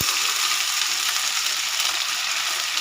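Potatoes sizzle steadily in hot oil in a pan as cumin paste and ginger paste go in, a dense, even frying hiss with no voices.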